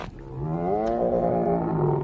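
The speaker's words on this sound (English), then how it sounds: "Was that your stomach?" A stomach growl rendered as a long, deep, roaring groan that rises in pitch and holds steady for about two seconds, loud and close with no talk.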